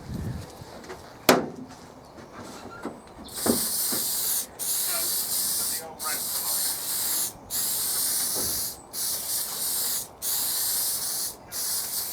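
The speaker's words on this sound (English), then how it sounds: "I'm just giving it a quick coat of the old Raptor liner." Raptor liner coating is sprayed onto the interior of a Jeep CJ7 in repeated loud hissing bursts, each about a second long with short gaps, after a few handling knocks at the start.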